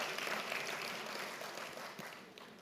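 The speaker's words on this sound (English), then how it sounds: "Can we give a round of applause" Applause from the audience at the UMP 10-year celebration fills the room as a broad, moderately loud clatter that slowly fades away.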